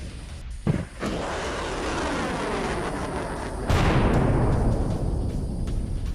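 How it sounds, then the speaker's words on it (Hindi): A PAC-2 Patriot missile exploding in the air seconds after launch: a sudden loud blast followed by a long rumbling roar, then a second sharp burst that keeps roaring and crackling, with no voices. "हवा में फटी PAC-2 पैट्रियट मिसाइल।"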